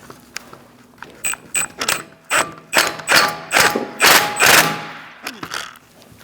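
Ratchet wrench snugging a bolt on the front steering knuckle of a 2002-2006 Toyota Camry, a series of close, loud clicking bursts that speed up in quick rhythmic strokes before stopping.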